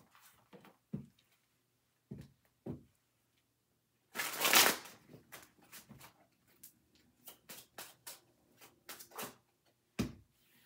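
Tarot cards being shuffled in quick, crisp bursts, with one longer riffle in the middle and scattered soft flicks around it, close by in a quiet room.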